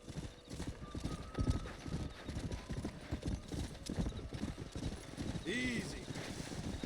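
Horses' hooves clip-clop in a steady, close rhythm in Red Dead Redemption, with a horse whinnying briefly near the end. Faint voices sit under the hoofbeats.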